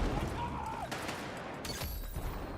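Rifle fire from a PW5A3 in a video game: a handful of sharp shots burst out over a dense, noisy background, spaced irregularly across a couple of seconds.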